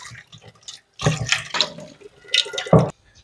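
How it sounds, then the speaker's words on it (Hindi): Plain water splashes and swishes inside a clay kadhai as it is rinsed by hand, coming in several short close bursts separated by brief quiet gaps. "तो सबसे पहले हम इसको सादे पानी से एक बार वॉश कर लेंगे।"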